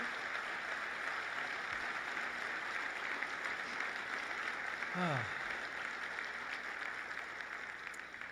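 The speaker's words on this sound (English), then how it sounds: "Can we have applause for all of those individuals that are listening up?" Faint, distant applause from the audience at an awards ceremony and luncheon, a soft continuous wash of clapping lasting several seconds with a brief voice-like sweep midway.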